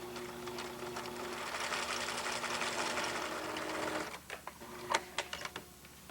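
A sewing machine runs steadily for about four seconds while stitching around the ends of a shirt collar stand, then stops, followed by a few sharp mechanical clicks and taps close by.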